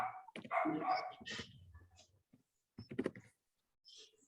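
Dog barking in the street, a few short barks and yips in two brief bursts with silence between them, faint and somewhat distant.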